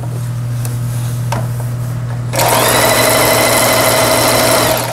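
A Singer 8280 home sewing machine idles with a low hum and then starts stitching, giving a loud, steady mechanical whir that runs to the end.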